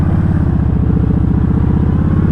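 A 2013 Yamaha Stryker liquid-cooled, five-speed chopper-style motorcycle idling close by, with a steady, throbbing low rumble and even, rapid pulses throughout, with no talk.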